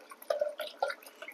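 A little water is poured into whisked yogurt for a curry, giving a few quick, light drips and splashes close by, quiet and without talk.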